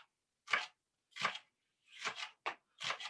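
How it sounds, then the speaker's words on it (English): A knife dices an onion into small cubes on a cutting board, giving five separate crisp chopping strokes, close and clear, with silence between them. "So I'm gonna do small diced cubes with the onion."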